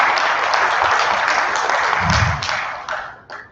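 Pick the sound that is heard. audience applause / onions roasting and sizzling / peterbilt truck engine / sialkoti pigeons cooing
audience applause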